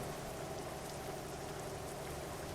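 Steady, dense hiss of rain falling continuously, even and unbroken, with no voices.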